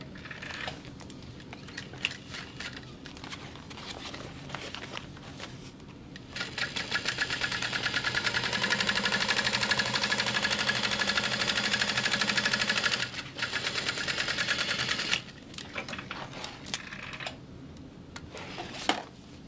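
A sewing machine top stitching the bottom panel of a large fabric bag. Short bursts of stitching lead into a long, steady run in the middle, then stop-start stitching again, close and alone.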